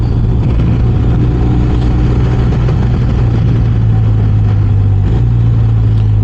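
A loud, steady engine drone from a BMW R 1250 RS motorcycle fills the whole stretch with a constant low rumble and wind-like roar, riding at cruising speed through downtown Austin.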